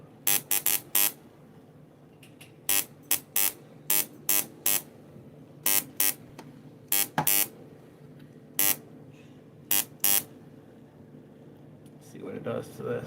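Automotive ignition coil arcing in repeated sharp crackling zaps, each a short loud burst, fired in an irregular rhythm of single and paired pulses, close up, followed by a rougher noise at the end.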